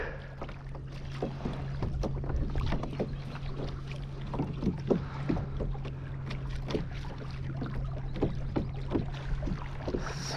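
A motorized Advanced Angler Big Fish 120 kayak hums along the Rio Grande, its steady low motor drone running underneath irregular water splashes and wind buffeting close to the microphone.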